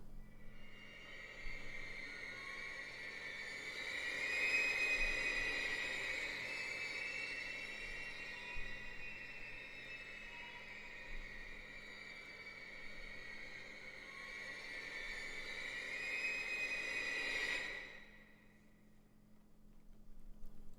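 A sustained orchestral string cluster from the Symphobia sample library swells and hovers in a dense, shimmering high register, then cuts off near the end.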